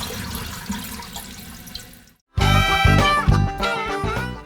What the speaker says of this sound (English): I reattach the water line, turn on the valve, and it sounds great.